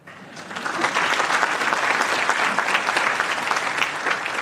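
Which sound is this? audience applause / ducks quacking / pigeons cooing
audience applause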